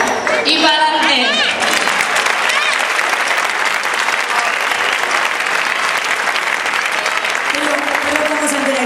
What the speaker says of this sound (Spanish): un aplauso de nuestra parte, Leonard, y para adelante.